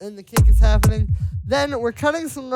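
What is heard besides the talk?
None of the usual background noises is heard.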